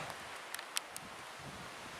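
Steady outdoor wind noise by a lake with whitecaps in the Temagami wilderness, broadband whooshing, a few faint rustles and small clicks scattered through; no voices.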